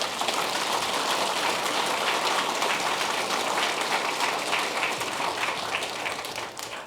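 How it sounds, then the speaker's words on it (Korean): A church congregation applauding at a diocesan celebration, a dense, even wash of clapping from many hands that holds steady throughout with no voices heard. "함께 큰 박수 부탁합니다."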